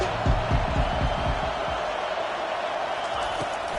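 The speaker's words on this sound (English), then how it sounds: "Decibels rising as the crowd gets behind this defense on 3rd down." A football stadium crowd roars on third down, a steady, broad wash of cheering that swells early and holds throughout.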